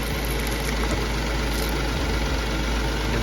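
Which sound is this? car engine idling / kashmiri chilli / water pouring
car engine idling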